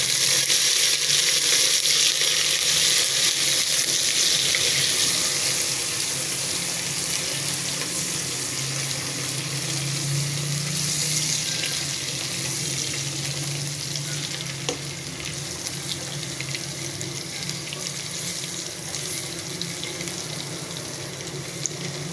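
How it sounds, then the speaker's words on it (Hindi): Ginger-garlic paste fries with browned onions in a pan, a loud, steady close sizzle that hisses continuously for over twenty seconds, easing slightly partway through, with no talking. "प्याज ब्राउन हो चुका है, अब लहसुन अदरक का पेस्ट डाल देंगे।"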